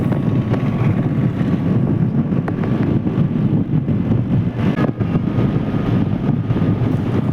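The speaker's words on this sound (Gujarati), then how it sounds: "અમે નીકળી ગયા મારી એક્ટિવા લઈને ઉપલેટા જવા" Constant wind buffeting the microphone over a low engine drone, as if riding a Honda Activa scooter along a road, with no talking.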